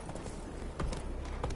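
Roach, a horse in the game Witcher 3, moves at speed with a quick run of hoofbeats, close and fairly loud over a faint ambient background.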